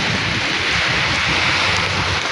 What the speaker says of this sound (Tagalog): Malakas ang ulan ngayon, pati hangin malakas.